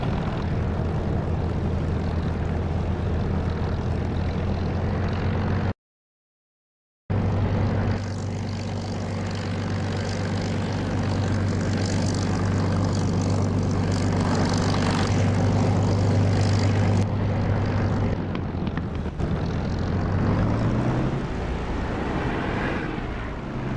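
Spitfire piston aircraft engine idling and rumbling steadily while taxiing on the ground in the DCS flight simulator, a loud continuous drone with a brief dropout, then the engine note shifts near the end.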